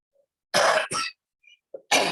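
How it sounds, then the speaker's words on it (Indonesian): Two sharp coughs in quick succession, close and loud, followed by a brief pause and another cough. "mohon maaf nih batuk."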